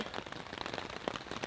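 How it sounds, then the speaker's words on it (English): Light rain patters on a Coleman tent in the mountains at night, a soft, quiet spatter of scattered drops with no voices. "the rain has started"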